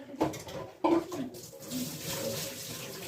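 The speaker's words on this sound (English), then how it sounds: "Let me wash my hands real quick." Hands being washed in a basin of hot soapy water, with two sharp splashy bursts followed by softer swishing and dripping, close and moderately quiet.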